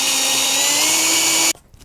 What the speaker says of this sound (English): I'm going to let the drill bit do the work